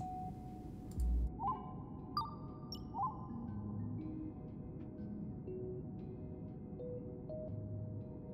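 Spaceship engine rumbling in the video game Stardeus: a steady, low, noisy drone runs throughout at moderate level. A few brief electronic blips and tones sit on top of it, with no talking.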